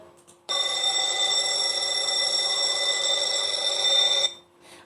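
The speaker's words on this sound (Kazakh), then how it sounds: "қоңыраудың сыңғыры" A bell rings in one continuous bright, loud trill for about four seconds, then stops abruptly, heard alone.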